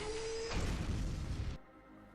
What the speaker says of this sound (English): You heard that? The explosion.